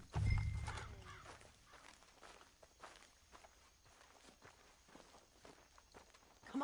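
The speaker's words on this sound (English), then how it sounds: "Shane Finley coming off the back of his horse." Hooves clop and footsteps crunch in a steady, moderately close rhythm, with a louder thump at the start and a faint whinny among them.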